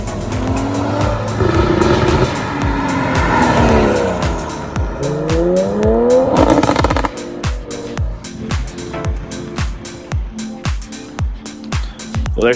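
A 2020 Toyota Supra Launch Edition launches hard, its engine revving loudly through rising gear pulls with sharp tire squeal, then settles into a rapid pulsing exhaust burble as it pulls away, loud and close.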